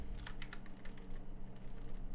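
Fast typing on a computer keyboard, a run of quick close key clicks and taps in an uneven rhythm, moderately loud over a faint room hum with no speech.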